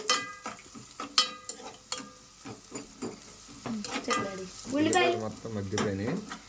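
Onions frying in a pan and stirred often, with a steady close sizzle under repeated spoon scrapes and clinks against the pan, plus a brief voice partway through.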